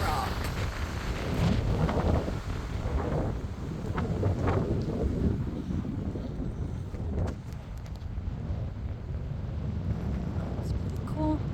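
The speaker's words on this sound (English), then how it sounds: "Oh, wow, it's windy." Strong gusting wind buffets the microphone throughout on a desert hike at Barker Dam during an extreme wind warning, a steady loud roar with rumbling low gusts and no clear talk.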